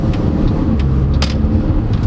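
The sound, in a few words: 2009 Mercedes-Benz C200 Kompressor accelerating at full throttle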